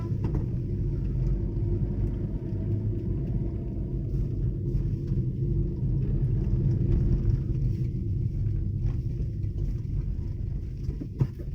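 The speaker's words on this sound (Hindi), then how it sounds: "गाड़ी में सब दूसरे गियर से ऊपर उठ ही नहीं रही है।" A car straining uphill in the Himalayan mountains of Uttarakhand, stuck in second gear, gives a steady, loud low engine rumble that holds without breaks, with no talk over it.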